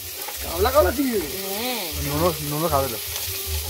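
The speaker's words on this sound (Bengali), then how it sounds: "এখন চিংড়ি ভাজা হচ্ছে" Prawns fry in a hot pan at home with a soft, continuous sizzle running underneath, while a person talks over it throughout.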